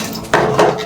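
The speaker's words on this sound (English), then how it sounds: "You continue mixing it together" Cake batter of milk, eggs and essence being mixed in a bowl at home, with short scraping, clinking strokes of a utensil against the bowl, two louder bursts in a soft, steady rhythm.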